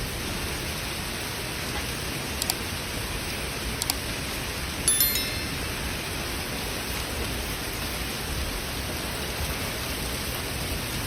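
Steady, dense rain mixed with hail pouring down on a backyard in central North Carolina, a constant hiss with a few brief sharper taps of hail standing out.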